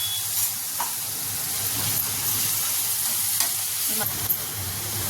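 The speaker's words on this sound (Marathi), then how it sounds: "आपला मसाला बघा छान भाजला जातोय." A green chilli prawn masala paste fries in a pan with a steady, close sizzle and hiss, punctuated by a few soft stirring scrapes; no one speaks.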